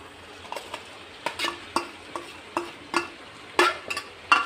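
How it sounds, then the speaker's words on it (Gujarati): Turmeric being stirred into a spiced gravy in a pan, a spoon scraping and clacking in about a dozen distinct strokes over a soft steady sizzle, close and clear with no talk. "હવે આપણે એને સરસ રીતે ગ્રેવી સાથે મિક્સ કરી દઈશું"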